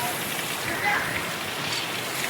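Heavy first-monsoon rain pours down in a continuous broadband hiss, loud and close, with a brief surge of spatter midway and no clear speech.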